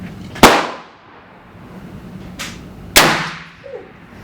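Two loud, sharp rifle reports from a Thompson Center Hawken muzzleloader, fired outdoors about two and a half seconds apart, each cracking hard and trailing off into a short echoing decay, with a fainter thump heard between them.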